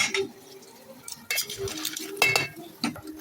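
A spoon stirring tomato, carrot, bell pepper and hot pepper in a metal cooking pot, giving irregular clinks and scraping taps in short bursts, close and fairly quiet.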